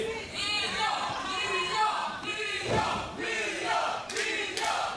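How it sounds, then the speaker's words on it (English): A wrestling crowd jeers and chants loudly at a wrestler during a VWC Ignite match, a sustained roar of many voices with rising shouts. "And the crowd giving it to Papi"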